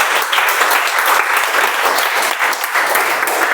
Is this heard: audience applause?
yes